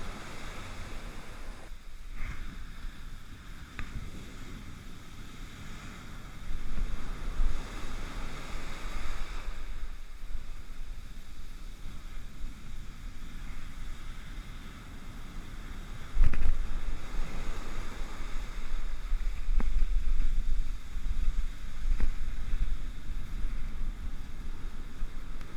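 Ocean waves roll and break along a sandy beach during a bass fishing outing, a steady wash of surf with gusting wind buffeting the microphone and louder surges of breaking water, with no voices.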